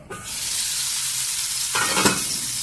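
Broccoli egg curry with chili powder sizzles loudly and steadily in a pan, with a brief surge of stirring sound near the end and no talk.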